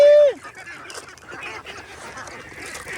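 Geese honk in a rural yard with ducks nearby: a loud whistle-like tone opens, then a cluster of nasal honks and calls from several birds, moderately close.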